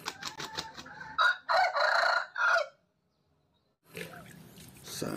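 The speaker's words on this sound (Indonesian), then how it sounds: "Ayam." A chicken gives a series of sharp clucks followed by loud drawn-out crowing calls, then a pause of silence before rustling noise resumes.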